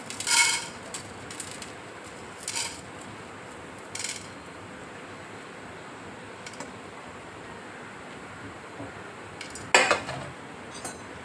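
Chana dal (split chickpeas) roasting in a pan for a traditional Marathwada modak bhaji, heard as a few sharp metallic clinks and scrapes of a utensil against the pan over a steady faint hiss. The loudest scrape comes near the end.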